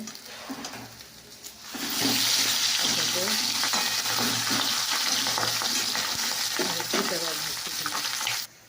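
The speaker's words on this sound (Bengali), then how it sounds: "তো দেখো বন্ধুরা মাছ ভাজা হয়ে গেছে।" Fish fries in a pan with a loud, steady, close sizzle that swells after a quieter start and holds nearly to the end, with faint stirring and scraping mixed in.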